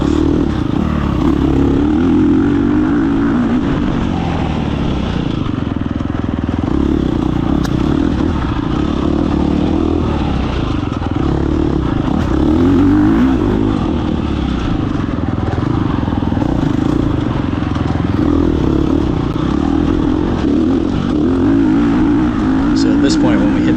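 A dirt bike engine drones continuously and loudly through a wooded hare scramble race, buzzing steadily close up with slight rises and dips in revs.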